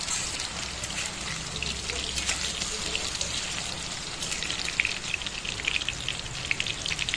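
Potatoes frying in oil in a pan while chicken kosha is prepared, a steady crackling sizzle with fine bubbling texture throughout, moderately quiet and without any voices.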